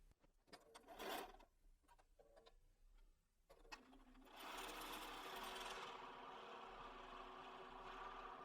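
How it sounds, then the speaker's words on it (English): A sewing machine stitches quilt seams for a simple hourglass quilt, starting with a few short bursts and then settling into a steady, continuous whirring run, close and fairly loud, with no talking. "I'm going to go back to the sewing machine"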